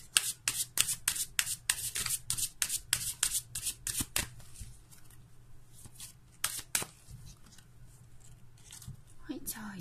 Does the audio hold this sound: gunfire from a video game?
no